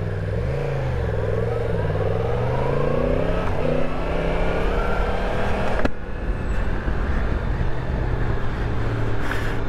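A 2023 Yamaha MT-10 on a road test ride accelerates with rising engine pitch through gear changes, a loud near drone mixed with wind rush, then settling into a steadier cruise.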